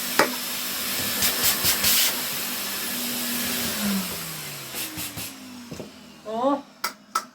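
A Hoover Constellation 867A vacuum cleaner runs in blower mode, giving a steady, loud rushing hiss that lasts throughout. Someone talks over it, and a few light clunks and knocks come through.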